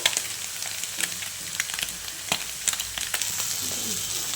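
A dry vegetable curry of eggplant and capsicum with small fish sizzles steadily in a pan, with frequent light clacks and scrapes as it is stirred. No voices.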